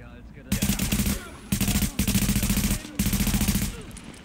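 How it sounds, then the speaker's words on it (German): Sustained automatic gunfire in the video game Tom Clancy's The Division, three loud rattling bursts of rapid shots separated by short pauses, close and dominant. "So, wir schießen mal von hier oben."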